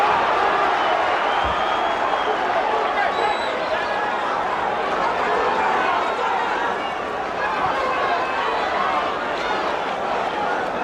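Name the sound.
boxing crowd cheering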